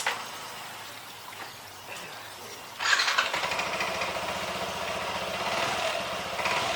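Motorcycle engine coughing and sputtering as it tries to start, quiet at first, then catching into a rough, uneven idle from about three seconds on, close by with no talking.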